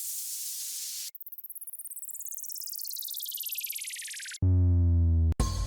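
Downward filter sweep samples from a bass house and tech house sample pack: a bright hissy burst, then a long descending whistling sweep with rapid pulsing, followed by a loud low tonal hit and a short noisy tail.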